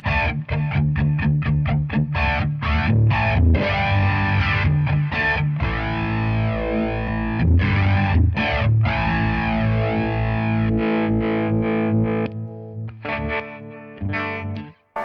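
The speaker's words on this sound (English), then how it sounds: "on the preset I've got flanger" Electric guitar through a flanger from an HX Stomp pedalboard preset: choppy, distorted strummed chords with a sweeping, whooshing comb-filter swirl, loud and continuous for about twelve seconds before breaking into sparser stabs.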